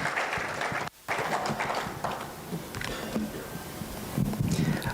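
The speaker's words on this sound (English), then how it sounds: "Another round of applause for Madam Testify." An audience at an International Anti-Corruption Day youth event claps in a fairly faint, steady wash of applause, with a brief dropout near the start, and continues unevenly to the end.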